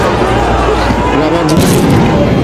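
Sound grenades and tear gas shells fired by police during a fierce street clash with party activists in Bangladesh, heard as a dense, loud, continuous booming din with crowd noise mixed in.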